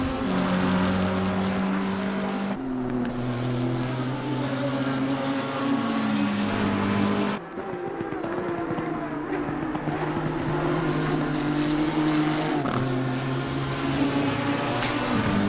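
A race car in Assetto Corsa Competizione at Brands Hatch gives a continuous loud engine drone, its pitch rising through the gears and then dropping sharply as the car shifts or brakes for corners. No one speaks.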